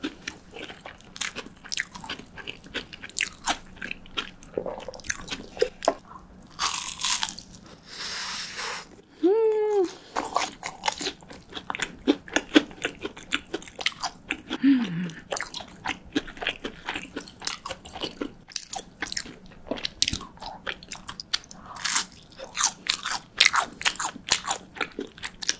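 Crunchy cheese sticks being bitten and chewed up close, with repeated loud crisp crunches in uneven bursts, a few brief vocal sounds in between.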